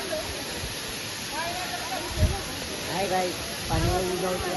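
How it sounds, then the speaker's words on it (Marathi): A small waterfall at the Kapil Dhar temple roars as a steady, broad rush of falling water, with people talking over it throughout. "तेवढा काय धबधबा मोठा नाही छोट्याचा बारका"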